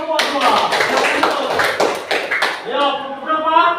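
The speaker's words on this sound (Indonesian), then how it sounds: "Tepuk tangan untuk kelompok 2." A school class at an elementary school claps together in a burst of quick, close applause that gives way to children's voices.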